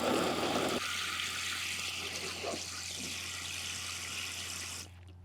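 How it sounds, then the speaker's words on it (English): Water splashes and pools over concrete blocks and house wrap on an outdoor BBQ and fireplace build. A steady broadband wash fills the clip, loud at first and then settling into a continuous trickling hiss until it cuts off near the end. "I'm going to puddle up some water here and see how long it takes to drain through"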